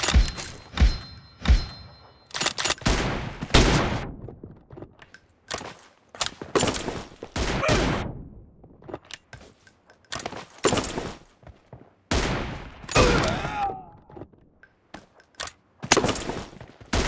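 Rapid gunfire bursts from the mobile battle-royale game PUBG Mobile, loud and close, with repeated volleys and single sharp shots spread across the whole stretch and no talk over them.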